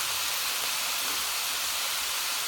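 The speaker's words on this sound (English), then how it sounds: "So you'll hear that sizzle." Minced meat sizzles in a hot pan for a Thai basil stir fry, a steady, dense hiss that runs without a break and stays close and even.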